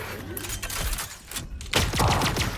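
Rapid bursts of video game gunfire crackle loudly throughout, with a denser volley toward the end and a voice speaking over it.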